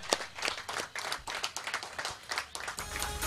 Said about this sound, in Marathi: संघर्षावर टाळ्या ठोका